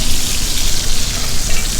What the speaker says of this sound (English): you throw a little knob of butter in there